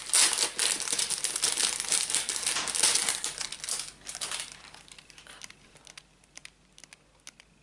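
Crinkly plastic packaging from a store haul is torn open and handled close up, dense crackling rustles for the first few seconds, then thinning into sparse crinkles and small ticks.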